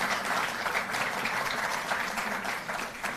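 Sustained applause from an audience honouring national athletes at a ceremony, steady dense clapping heard from a moderate distance throughout.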